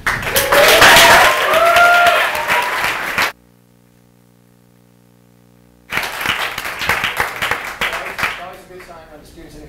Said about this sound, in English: Students in the class are clapping the loudest for the TAs